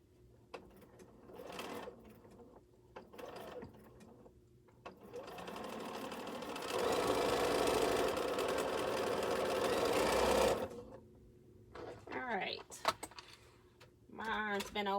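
A Bernina sewing machine stitches in a steady, fast whir for a few seconds, bracketed by stretches of quiet talk before and after the run.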